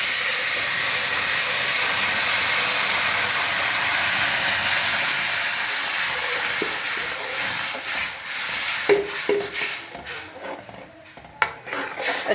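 Warm milk poured slowly into roasted semolina in a pan, a loud, steady steaming sizzle that breaks into uneven bubbling and stirring clatter toward the end.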